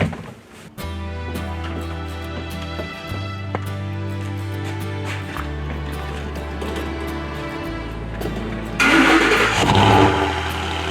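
A truck engine starts and runs at a steady idle for several seconds, then revs louder near the end as the truck pulls away, heard close with no talking over it.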